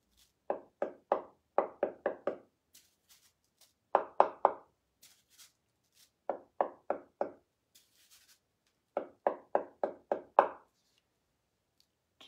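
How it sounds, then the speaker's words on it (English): The back of a paintbrush taps dots onto a noodle board, crisp wooden knocks in quick bursts of three to five separated by short pauses, close and clear with no talking. "I'm using the back of this brush to do some dots."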